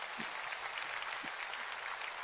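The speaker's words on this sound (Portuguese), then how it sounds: "Você pode aplaudir ao Senhor." A church congregation applauding during a Portuguese-language sermon: dense, steady clapping from many hands fills the whole stretch at moderate loudness, with a faint voice or two breaking through underneath.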